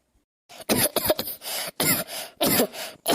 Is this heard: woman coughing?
yes